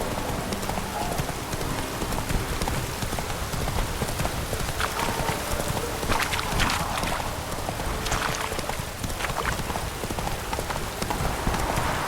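Roach the horse gallops through The Witcher 3 game world, rapid clip-clop hoofbeats running continuously and close, with a rain-like hiss and faint voice underneath.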